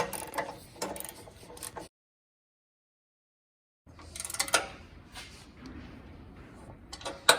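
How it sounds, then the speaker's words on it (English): A ratchet tightens a 16mm front bolt, giving quick clicking bursts close by for about two seconds, then a two-second silence, then more clicking mixed with mechanical rattles. "we'll tighten the front bolt here. 16mm bolt as well."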